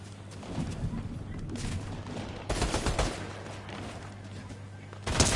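Rapid bursts of gunfire from a Fortnite match, with a steady low hum running underneath, a loud volley near the middle and another sharp burst at the end.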